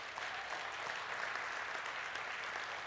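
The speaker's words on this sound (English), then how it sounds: "Give the Lord a hand clap right now." A church congregation claps their hands at a Sunday worship service in a dense, continuous round of applause that fills the room, with no voices on top.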